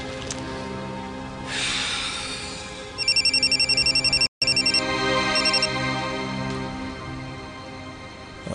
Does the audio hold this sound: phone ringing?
yes